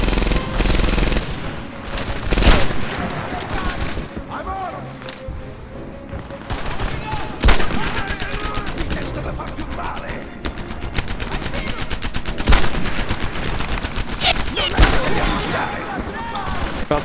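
Gunfire in the World War II shooter Medal of Honor Airborne: dense bursts of rapid automatic fire and single sharp shots, loud and continuous, with someone talking between and over the shots.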